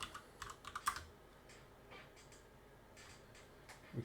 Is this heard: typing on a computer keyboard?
yes